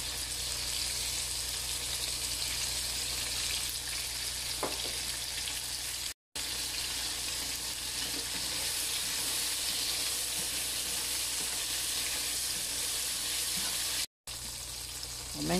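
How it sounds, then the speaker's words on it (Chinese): Soft water tofu pan-frying to golden on both sides for a home-style scallion tofu dish: a steady, dense sizzle and hiss that runs the whole time, with a few faint stirring scrapes and two brief dropouts. "现在煎至两面金黄了，我们用蚝油调味"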